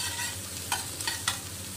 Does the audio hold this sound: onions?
yes